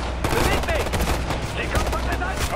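Rapid gunfire from the Ghost Recon: Future Soldier video game, dense overlapping shots at steady loud level over a game soundscape, with faint voice layered in.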